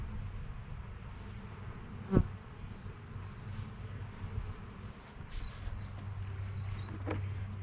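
Honeybees drone around an open beehive during an inspection, a faint, continuous low buzzing hum close by with occasional individual bees passing near.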